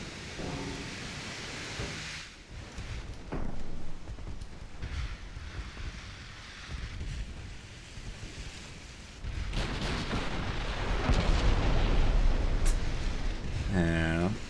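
Naval gunfire and shell impacts in a wartime naval strategy game, heavy rumbling booms and roaring blasts building over a noisy bed of sound, with someone talking at times.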